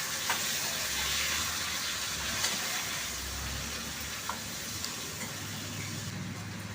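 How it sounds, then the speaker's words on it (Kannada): Chopped tomato fries in a hot oil tempering, giving a steady dense sizzle and hiss that stays fairly even throughout, with occasional small pops and stirring. "ಟೊಮೆಟೊ ಅಷ್ಟು ಬೇಯಿಸ್ಕೋಬೇಕು ಒಗ್ಗರಣೆಯಲ್ಲಿ."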